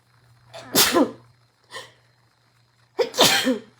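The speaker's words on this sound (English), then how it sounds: "I'm going to sneeze" A person sneezes twice, close and loud, with a brief breathy intake between the two sneezes and a faint steady hum underneath.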